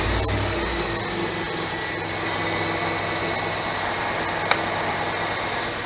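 Dodge Dakota with the 4.7L V8 engine starting up, a brief cranking burst giving way to a steady, loud idle drone with a faint whine, plus one small click near the end; no talking.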